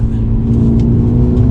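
A 2020 Mercedes-AMG CLA 35 accelerates hard, its all-wheel-drive turbo engine a loud steady drone heard from inside the car, with brief pops as it upshifts.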